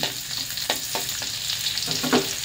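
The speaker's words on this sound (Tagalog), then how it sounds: "Ating haluin nang lumabas ang bango ng ating bawang at saka sibuyas." Garlic and onion stir-frying in a pan with a steady hiss of sizzling and a few clear scrapes and clacks of a stirring utensil, close and fairly loud, with no talking.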